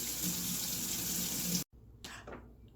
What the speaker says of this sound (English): Wash the zucchini.